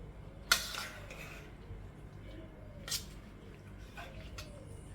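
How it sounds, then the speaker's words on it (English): Fork stirring a shrimp and vegetable salad coated in sorrel sauce in a bowl, giving a few soft wet squishes and scattered light clinks against the dish, faint and intermittent. "So I'm just going to use a fork and stir around."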